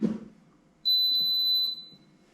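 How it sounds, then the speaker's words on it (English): An induction cooker powered by a portable lithium power station gives one sustained electronic beep, loud and steady for about a second, after a short thump of switching. "It senses that power's gone to the cooker, and that's the reason why it beeped."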